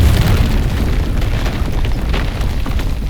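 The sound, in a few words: ruins destroyed, explosion in video game Avowed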